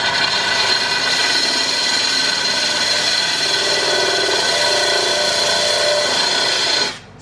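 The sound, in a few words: power drill drilling holes in a fish tank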